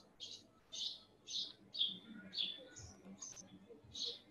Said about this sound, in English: Good to hear birds chirping.